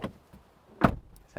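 A solid thud as the door of a 2023 Mitsubishi Outlander PHEV swings shut, one firm close in the middle of an otherwise quiet stretch, with a faint click before it and another after.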